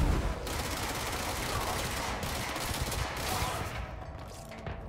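Gunfire in the video game Control crackles in rapid, continuous bursts. The volley of shots stays fairly faint and steady, then thins out near the end.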